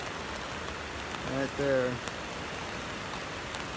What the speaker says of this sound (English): Just crazy amounts of rain.